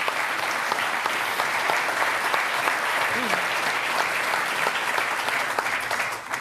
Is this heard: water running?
no